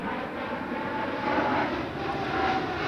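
Blue Angels F-18 jets flying during air show practice, a steady broadband jet roar heard from a distance and swelling gently, with no clear speech over it.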